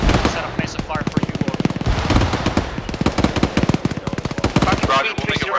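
ArmA 3 gunfire: rapid bursts of loud automatic shots crackle in quick succession almost without pause, with occasional heavier reports mixed in.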